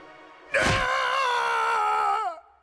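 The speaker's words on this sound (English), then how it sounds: "you can still hear him screaming in this haunting death scene" Eggman from a Sonic video game screams in a death scene: one long, loud, wavering cry that starts abruptly, holds for almost two seconds, then trails off.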